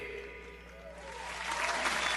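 Audience applause at a kickoff celebration, building from a faint patter into a louder, dense wash of clapping toward the end, with a voice briefly audible over it.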